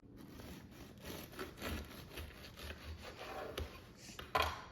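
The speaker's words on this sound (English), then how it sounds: "Now let's cut into this bread" A knife saws through a loaf of homemade sandwich bread, giving soft, crusty rubbing strokes in a steady back-and-forth rhythm, close and fairly quiet, with a slightly sharper crunch near the end.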